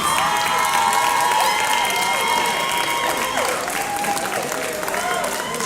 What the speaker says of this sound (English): Please stand and give a round of applause for our 2021 Class 5A Basketball State Champions.